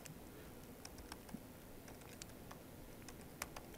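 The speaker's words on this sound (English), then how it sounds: "me typing and entering data here" Keys tapped on a computer keyboard while entering data, in quiet, irregular clusters of soft clicks over a low steady background hiss, with no talking.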